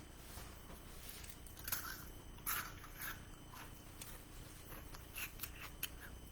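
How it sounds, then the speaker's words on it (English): Homemade three-ingredient honeycomb candy is bitten and chewed, giving a few faint, brittle crunches and crackles spread through a quiet stretch. "it's got a good crunch."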